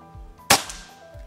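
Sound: shot from an FX Royale PCP air rifle

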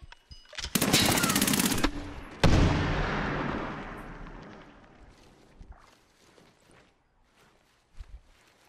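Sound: grenade launcher (noob tube) fired in Medal of Honor Warfighter video game

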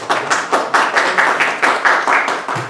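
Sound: audience applause at a mushaira

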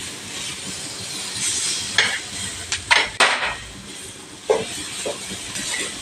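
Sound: stirring and roasting dry coconut with spices in a pan

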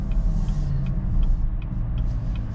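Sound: Chevrolet Camaro ZL1 engine downshifting while driving

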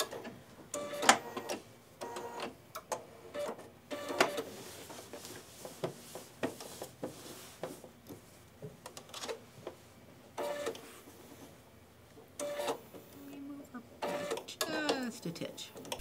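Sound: sewing machine back stitching a tea towel

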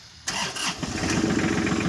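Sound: tractor engine starting

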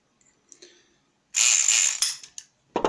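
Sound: Kronos pick gun opening a 5-pin lock

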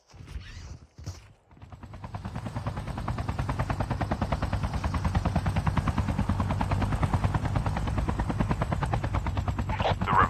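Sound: airdrop aircraft arriving in Call of Duty video game

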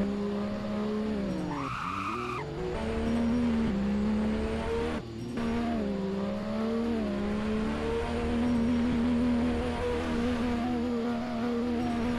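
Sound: car drifting with tire squeal in Driving Empire video game

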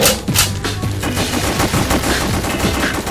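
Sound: gunfire from the video game House of the Dead: Overkill

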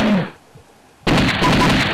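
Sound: gunshots in The House of the Dead video game

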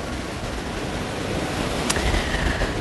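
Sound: waves of Lake Ontario

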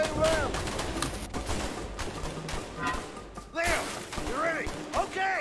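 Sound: gunfire in the video game A Way Out

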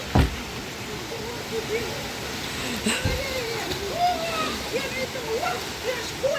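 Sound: water splashing as people swim in a river

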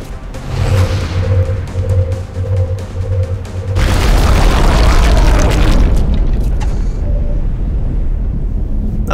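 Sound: rocket explosion in the video game X-Com: Enemy Unknown

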